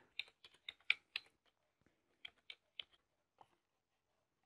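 Fingers tap out a burst of quick keystrokes on a computer keyboard while entering account details, then a pause and a few scattered clicks follow, close and clear.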